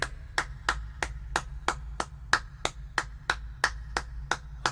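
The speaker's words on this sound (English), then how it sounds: "Everybody, clap your hands!" Hands clap in a steady, evenly spaced beat, about three claps per second, sharp and close over a low background hum.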